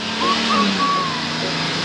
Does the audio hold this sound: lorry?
yes